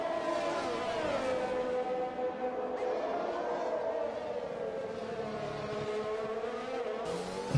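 Racing cars roar continuously on track in a Codemasters racing game, with high engine whines rising and falling through gear changes as a McLaren and a Mercedes run in traffic, loud and steady without talk.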